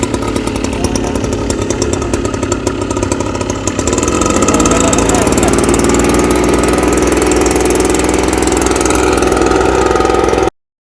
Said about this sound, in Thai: ก็จะมีรถ รถไถครับ